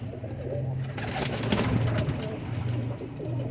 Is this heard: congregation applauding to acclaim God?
no